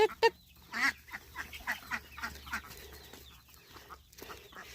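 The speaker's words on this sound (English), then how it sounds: "Ducks hate being locked up at night." Farm ducks quack and chatter alongside clucking fowl as they are herded into their pen for the night, with a few loud close calls at the start followed by scattered quieter honks.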